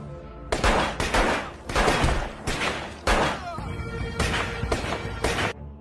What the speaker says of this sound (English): gunshots rang out in rapid succession.